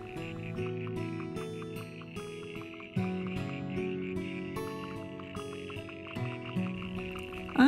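Frogs croaking in a wetland of riparian plants, a layered chorus of steady, pulsing calls with a few higher chirps, close and continuous with no talk.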